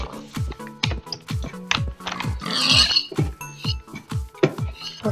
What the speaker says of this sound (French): Ok, donc on bute les petits cochons.